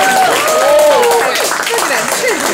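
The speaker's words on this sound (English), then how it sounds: "You clap your hands." A crowd at a 30th birthday party claps along during singing, steady clapping mixed with loud voices and shouts close by.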